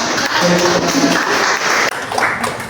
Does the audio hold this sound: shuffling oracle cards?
no